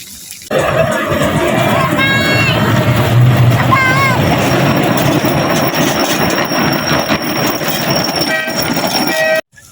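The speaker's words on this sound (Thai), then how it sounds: "ระหว่างรอเราก็นั่งรถไฟเล่นได้" A small tourist train ride at Chachoengsao's Platform 22, with a steady rumble of the moving train and its wheels throughout, brief high squeals and whistle-like tones, and people talking over it.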